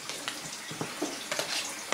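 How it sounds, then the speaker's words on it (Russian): Running tap water as a spoon is wetted under it while making sourdough bread, a soft splashing flow with small irregular spatters and clinks, quiet and close. "Постоянно намачиваем под водой."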